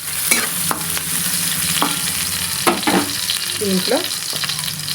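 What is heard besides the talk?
onions and carrot frying in a pan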